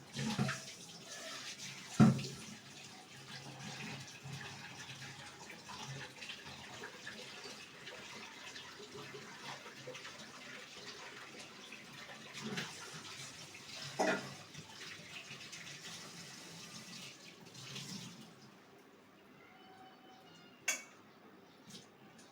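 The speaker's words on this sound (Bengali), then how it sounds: "তার আগে আমি আলুগুলো ধুয়ে নিই।" Potatoes are washed under running tap water in a kitchen sink, a faint steady trickle broken by a few sharp clunks and knocks as they are handled.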